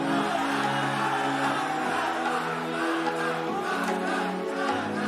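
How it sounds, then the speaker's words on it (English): A large crowd at a Dota 2 esports grand final roars and shouts in a steady, distant-sounding wash of voices, with a continuous hum underneath. "The crowd, of course, making their voices heard."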